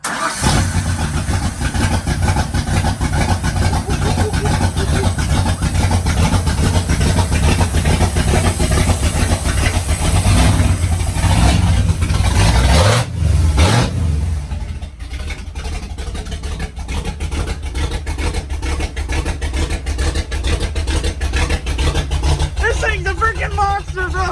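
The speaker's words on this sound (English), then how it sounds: "We have finally got the engine in the truck and running." A truck engine runs steadily at idle after its first start, a loud continuous low rumble lasting throughout, briefly dipping midway before settling again, with people talking nearby over it.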